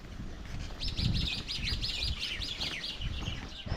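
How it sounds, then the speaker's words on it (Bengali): Birds chirp in quick, repeated high tweets, a busy string of calls over a quiet outdoor background. "তো পাখির ডাকগুলো শুনতে পাচ্ছেন"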